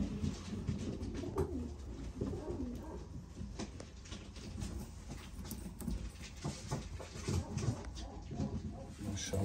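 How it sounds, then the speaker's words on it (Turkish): Lavender ringneck doves coo repeatedly in a breeder's aviary, with soft overlapping calls close by, some faint rustling, and no talk. "bunlar da lavanta boğmalar"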